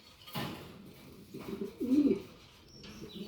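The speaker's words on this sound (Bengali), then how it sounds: "কবুতরটা কিন্তু খুব ভালো একটা ব্রিডার" A pigeon in a breeding loft gives a low, close coo, with softer rustling and faint bird sounds around it.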